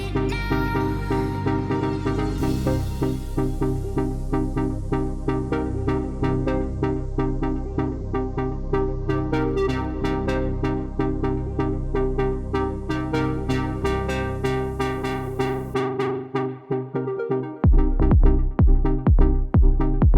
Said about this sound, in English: create kind of a dark, deep house track that sounds like this